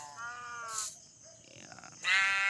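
Sheep bleat in a Minecraft-style survival video game, two loud, wavering cries close by, separated by a quieter pause with small game noises.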